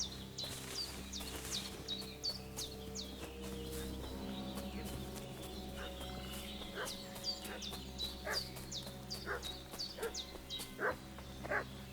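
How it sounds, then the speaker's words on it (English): A dog barks repeatedly in Kingdom Come: Deliverance II, fairly distant, sharp yaps scattered over a steady ambient hum with birds chirping in the background. "What's that dog making such a fuss about?"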